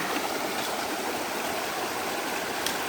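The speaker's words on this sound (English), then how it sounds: "More water crossing." A creek rushes steadily and loudly at a water crossing on a Continental Divide Trail thru-hike through a storm, a dense unbroken wash of flowing water with no voices.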